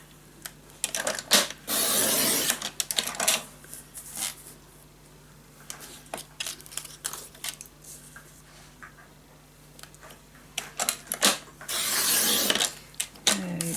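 Scissors cutting paper pieces for a scrapbook, with crisp snipping bursts at the start and end and quieter rustling and handling sounds in between.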